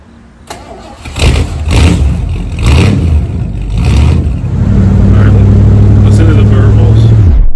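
A 1982 Ford F150 pickup truck engine cranks, catches and revs in several loud bursts before settling into a steady, throaty idle, close up.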